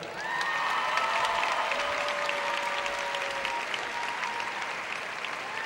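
A large crowd at a high school graduation applauds graduating students in sustained, dense clapping that fills the hall, with faint cheers and whistles carried along in the background.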